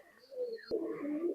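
Pakistani Teddy pigeons coo once, a short, soft, low call close by in a quiet space.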